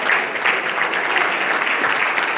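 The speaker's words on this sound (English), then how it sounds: "let's give him a round of applause as well" An audience at a business pitch night event breaks into steady, dense applause, loud and sustained throughout with no voices over it.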